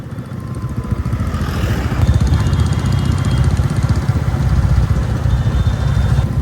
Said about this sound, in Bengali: আমার বাইক এখন হাসানুর চালাচ্ছে